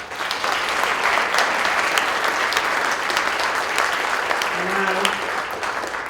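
A conference audience at CodeMesh 2014 applauds a speaker after a programming-language talk, a full, sustained round of clapping that stays even and dense throughout.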